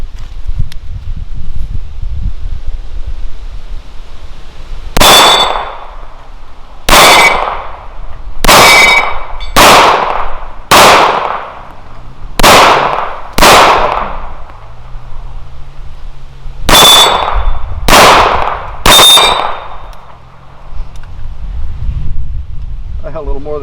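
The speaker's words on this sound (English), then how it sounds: "So first shots on the Challenge Targets mini Texas Star on Riders Range using the Wilson EDC X9." Pistol shots from a Wilson EDC X9 striking a steel mini Texas Star target on an outdoor range: nine loud sharp cracks with ringing clangs, irregularly spaced in two bursts, over wind noise.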